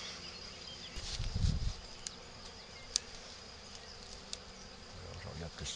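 Honeybee swarm buzzing while being hived into a frameless divisible Layens hive, a faint steady hum of many bees with a few sharp clicks and a brief rustle nearby.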